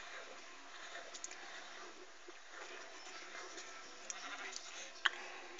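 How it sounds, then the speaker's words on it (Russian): Sheep bleating in the mobile game Minecraft PE, quiet repeated game calls over a steady hiss, with a short sharper bleat near the end. "О, есть овца. Нужно ее убить."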